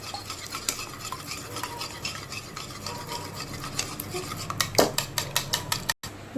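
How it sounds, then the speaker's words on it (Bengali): Eggs beaten hard in a bowl for a crispy loitta fish fry batter: quick utensil clicks and scrapes that build into a fast, rhythmic whisking toward the end. "তেলটা গরম হচ্ছে ততক্ষণ এইটাকে আমি খুব ভালো করে ফেটিয়ে নেবো"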